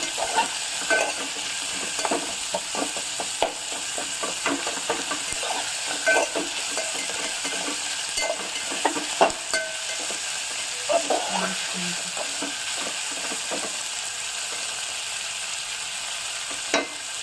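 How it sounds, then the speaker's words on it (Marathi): Onion with curry leaves sautéing in a pan until golden, a steady sizzle with frequent scraping and stirring strokes throughout, close and moderately loud. "आता छान कांदा गोल्डन ब्राऊन होईपर्यंत मी परतणार आहे."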